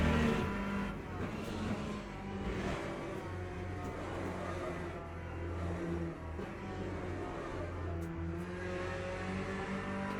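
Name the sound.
race car engine in a racing video game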